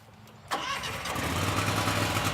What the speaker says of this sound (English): We got it running.